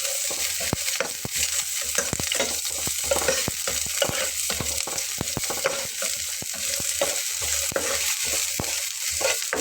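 Chopped onion fries with mustard seeds in a pan for a soft flour breakfast snack, a constant sizzle broken by frequent spatula scrapes and clacks as it is stirred, close and with no voices.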